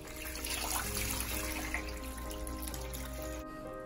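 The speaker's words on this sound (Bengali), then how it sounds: "3 কাপ চিনির সাথে দিয়ে দেব 6 কাপ জল" Water pours steadily into a pot of sugar to make syrup for a milk sweet, a close, continuous gush that stops abruptly near the end.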